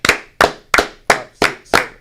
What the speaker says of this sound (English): 15 claps. Ready.